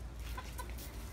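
A rooster gives a few short, soft clucks in quick succession, fairly faint against a low background hum.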